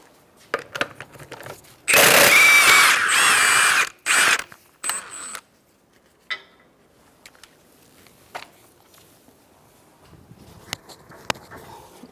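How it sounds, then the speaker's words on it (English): A 21mm socket loosens the wheel lug nuts on a 2014-2019 Kia Soul with a loud mechanical whir lasting about two seconds, then shorter bursts and clicks, followed by scattered faint clunks in a quiet garage. "Using a 21mm socket, we're going to take off our wheel."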